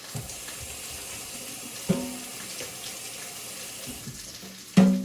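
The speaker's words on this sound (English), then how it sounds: "you rinse off your cooking board" Kitchen tap water runs in a steady, close stream over a cutting board being rinsed, with a couple of sharp knocks as the board shifts under the flow.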